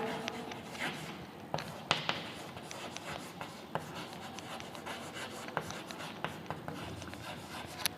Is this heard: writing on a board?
yes